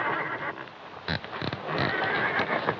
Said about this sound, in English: Wonder what's wrong with them horses.